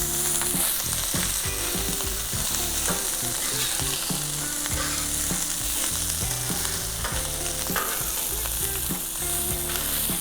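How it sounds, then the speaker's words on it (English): Rice fries in crisped beef fat with a loud, dense, continuous sizzle close to the pan. Frequent scraping and stirring knocks sound throughout, and no one talks. "And get that frying."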